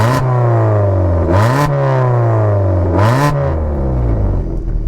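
A modified Maruti Suzuki Swift with valved exhaust revs loudly up close. Its deep, steady idle drone is broken by two sharp blips of the throttle that rise and fall back, and the engine settles lower near the end.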